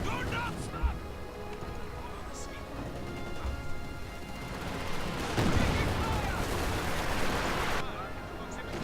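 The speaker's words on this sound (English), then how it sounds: "my support guns are wrecking them." Support guns fire in the video game Company of Heroes 2, with bursts of gunfire and explosions in a busy battle mix under players talking.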